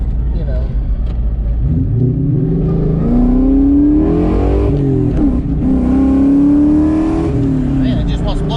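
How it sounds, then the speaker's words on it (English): A 1996-2004 Ford Mustang revs hard and spins its tires, the engine note climbing and wavering loudly and close up with a continuous rough roar and tire noise throughout. "Man, it just wants to blow the tires off."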